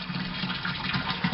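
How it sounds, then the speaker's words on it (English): A steady, full rush of water pours and drains through a garden grow bed, a continuous close gushing and gurgling flow with no pauses and no voices. "Now it's on full bore, and so now that's all the water that had been poured into this grow bed"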